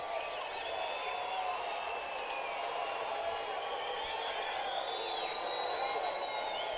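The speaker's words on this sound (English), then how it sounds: "Obviously the crowd's getting into it." A crowd at a Triple-A Pacific Coast League baseball game in Oklahoma City cheers at a two-strike, two-out count, a steady roar of voices with shrill whistles and shouts rising over it, continuous and moderately loud.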